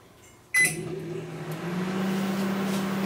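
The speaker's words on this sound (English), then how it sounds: "I'm going to make sure that everything's turned off except this microwave. And we'll try it one more time." A Panasonic inverter microwave oven switches on abruptly in a garage and runs with a steady hum and a rising electrical drone, heard close and alone.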